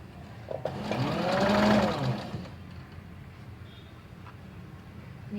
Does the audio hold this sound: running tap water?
no